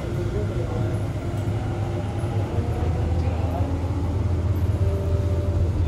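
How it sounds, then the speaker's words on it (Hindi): Steady low rumble of a metro train at a crowded Delhi Metro station, with a dense crowd murmur and a constant mechanical drone throughout. "हम लोग दिल्ली मेट्रो स्टेशन पर हैं"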